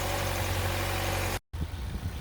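A 2007 Saab 9-3 with the 2.0T engine idles steadily at close range, a constant low hum interrupted by a brief silent cut before resuming.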